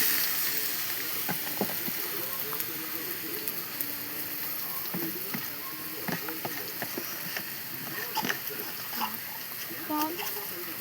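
Jackfruit for thoran drops into a hot pan and sizzles steadily, with scattered crackles and scraping stir sounds throughout and faint background noise.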